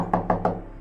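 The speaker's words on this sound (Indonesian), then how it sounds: "Ketukan itu terdengar sangat jelas di tengah malam yang sunyi." Three loud knocks strike a mosque door in quick, evenly spaced succession, sharp and close, as a story sound effect with no voices.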